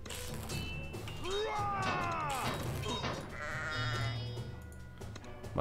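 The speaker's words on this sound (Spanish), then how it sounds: "Transforma a los enemigos en ovejas y ofensivas." Sheep bleat repeatedly in the Kingdom Rush video game, wavering cries overlapping over a steady low game background, with faint hits and effects mixed in and a voice talking at times.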